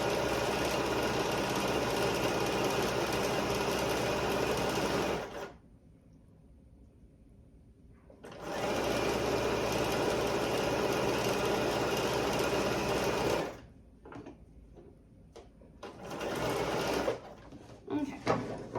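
A sewing machine stitches a quilt block strip set in two long, loud, steady bursts of rapid mechanical whirring, separated by a quiet pause, with brief irregular clatter at the end.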